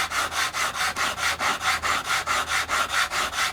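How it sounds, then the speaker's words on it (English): A floorboard saw on its coarse setting rasps back and forth across the wing of an FW190 replica, a steady rhythm of about two strokes per second, close and loud with no talk. "you can see why I use the floorboard saw, because even on the coarse setting"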